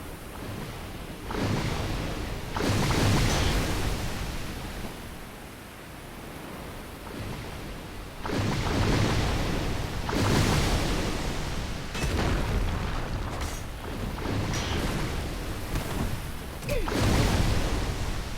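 Heavy water waves surge and crash in recurring loud swells in the video game Dark Souls Remastered, each roaring wash rising and fading in a steady cycle.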